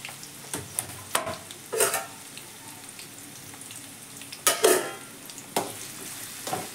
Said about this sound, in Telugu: ఆనియన్స్ వేసుకున్న బాగా కలపాలండి.